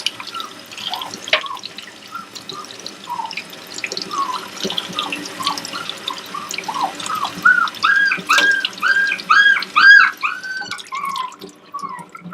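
Running tap water splashes over a six-week-old AussieDoodle puppy during a wash, gurgling and trickling in an uneven, bubbly rhythm that grows louder and more burbling toward the end, with no voices heard.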